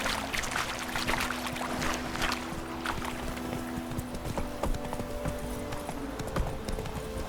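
The Witcher 3 horse Roach trotting, with steady hoof clip-clops running throughout over a soft ambient background. No voices are heard.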